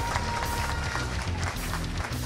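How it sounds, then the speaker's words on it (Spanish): Audience applause after a speech at a candidacy presentation event, a steady wash of clapping from a crowd that fills the whole stretch evenly without pause. "Otro aplauso."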